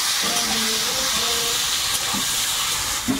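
Potato pieces frying in hot oil in a home kitchen, a steady broadband sizzle and hiss running throughout with faint low clatter and a soft tonal hum underneath, no talk.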